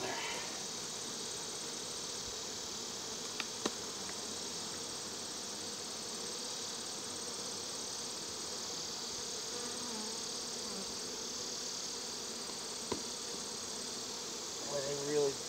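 Honeybees buzz steadily around an open nucleus hive during an inspection, forming a constant moderate hum with a few faint clicks of frames being handled.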